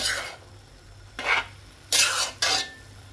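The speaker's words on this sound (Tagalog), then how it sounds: "Kailangan natin ngayon haluin para yung kanyang lasa ay" Bihon rice noodles with fish balls and shrimps are tossed in a pan with a utensil, producing several scraping, rasping stirring strokes with short gaps between them, close and fairly loud, with no talking.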